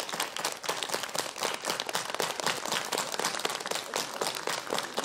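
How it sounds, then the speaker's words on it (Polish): A group of seniors claps hands together in a laughter yoga session at a senior fair in Elbląg, a fast, dense, continuous patter of claps at moderate loudness, with no talking. "Więc na sam początek zapraszam, żebyśmy sobie po prostu poklaskali."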